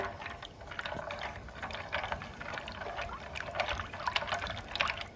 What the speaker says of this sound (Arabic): هنحط بقى المكرونه كده وهنسلق بقى المكرونه دي. هنقلب بقى كده